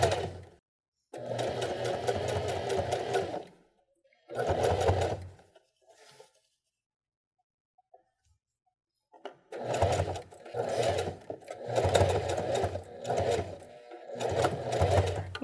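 A sewing machine stitches a trouser hem in several loud bursts of rapid, even stitching, broken by short pauses and a longer silent gap before quick back-and-forth runs that backstitch at the seam.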